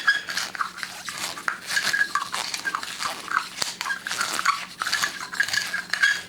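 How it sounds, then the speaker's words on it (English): A hand deburring tool scrapes around the inside and outside edges of a cut copper pipe, giving a steady run of close, rasping scrapes with small metallic clinks, no talking. "I'm going to use this deburring tool, and I'm going to deburr it on the inside and on the outside of the pipe."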